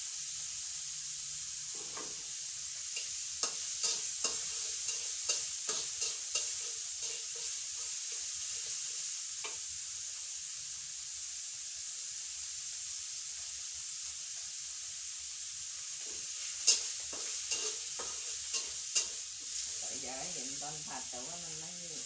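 Fried rice with naem, Thai fermented pork, sizzling steadily in a pan as it is stir-fried, with a broad continuous hiss, scattered scraping clicks of the utensil, and a voice talking near the end.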